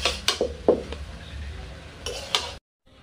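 Fried rice with spices stirred in a pan: several sharp clinks and scrapes of a spoon against metal, irregular and close, then a brief silence near the end.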